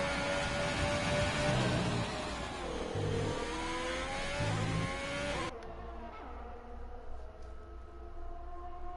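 An onboard race car engine in a racing video game screams through a final lap on the Abu Dhabi circuit, revving high and dipping through gear shifts, then cuts abruptly to a quieter, muffled engine drone.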